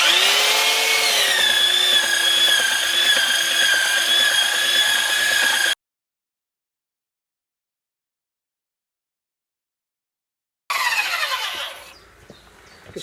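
Power tool smoothing the top of a wooden bridge beam for a Japanese tea house, a loud steady whine for about six seconds, then silence, then a brief burst that quickly fades.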